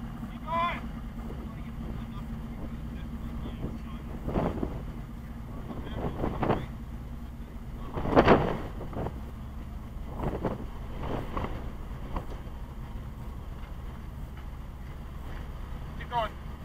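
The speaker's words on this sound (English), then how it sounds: "It's fucking wind, man." Steady wind buffeting the microphone outdoors at Vallecito Wash, a continuous low rumble throughout, with occasional louder gusts and faint voices talking in the background.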